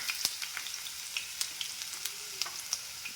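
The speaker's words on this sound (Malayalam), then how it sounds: "എണ്ണ ചൂടായപ്പോൾ നമുക്ക് ഞാൻ ഒരു കഷ്ണം ഇഞ്ചി ചെറിയ കഷ്ണമാക്കി വെച്ചതാണ് കേട്ടോ അതിട്ട് കൊടുക്കാം" Small chopped pieces of ginger spitting in hot oil in a pan, a dense continuous crackling sizzle with scattered sharp pops and light stirring scrapes, close and fairly loud, no voices.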